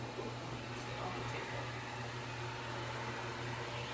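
A pet blow dryer drying an Afghan Hound puppy gives off a steady, loud whooshing drone with a low hum, unbroken throughout and with no talk heard.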